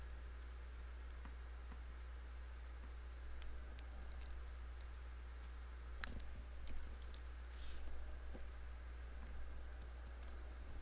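A password is typed on a computer keyboard in quiet, irregular bursts of soft key clicks over a low steady hum, close and faint.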